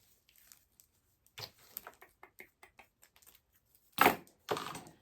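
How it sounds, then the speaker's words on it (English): Scissors snip through ribbon in a handful of short, crisp cuts, with a couple of louder rustling snips near the end, close and alone in an otherwise quiet room. "I'm going to cut it and come in and just make a simple bow"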